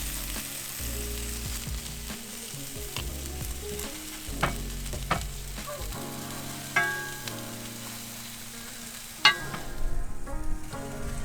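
Sun-dried tomato turkey meatballs searing in a pan, an even crackling sizzle broken by occasional knocks and scrapes as they are turned, with a sharp clatter near the end and no talk.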